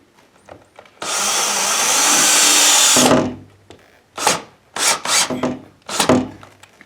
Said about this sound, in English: You're going to lean into the drill.